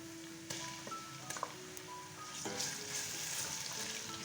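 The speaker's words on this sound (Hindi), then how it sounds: "मैंने इसको लहसुन को इसमें फ्राई किया है" Garlic-ginger paste fries in a hot pan with a steady hiss, punctuated by a few brief clicks and scrapes, and the sizzle grows a little louder toward the end.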